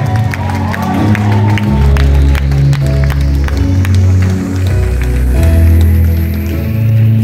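An audience at the Miss Philippines Spain 2022 beauty pageant applauds and cheers for the judging panel, the clapping mostly buried under loud, booming stage music.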